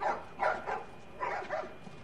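A puppy barking in The Last of Us Part II: several short, high yappy barks in two quick pairs, fairly close and moderately loud, with no talk over them.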